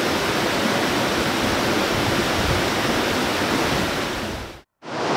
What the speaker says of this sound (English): Still going along the river.